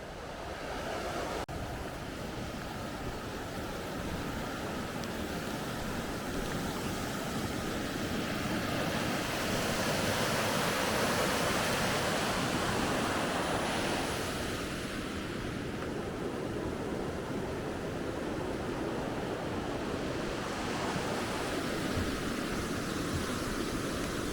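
Snoqualmie River flowing, a continuous loud broadband rush of moving water with some wind noise, steady and unbroken throughout, no voices.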